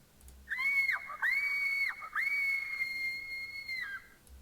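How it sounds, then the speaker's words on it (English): Three drawn-out, high wailing cries of a scream-in-the-night sound effect, played in Foundry VTT, each rising, holding and sliding away over a quiet hiss with short gaps between them. "You hear a scream in the night."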